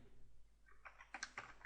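Quiet typing on a computer keyboard, a short run of light key taps clustered toward the end, closely recorded over a low background hum.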